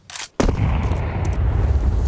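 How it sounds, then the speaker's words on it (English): A grenade explosion in the Counter-Strike video game: a sharp, loud blast that hits suddenly and then rolls into a sustained rumbling tail, heard alone with no talk. "That nade is pretty well placed"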